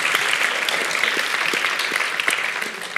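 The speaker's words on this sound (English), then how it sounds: "Give him a round of applause." An audience at a talk on the future of particle accelerators applauds a speaker, a steady wash of many hands clapping continuously at moderate volume.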